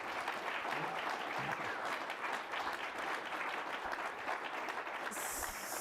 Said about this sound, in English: everybody can give Max a round of applause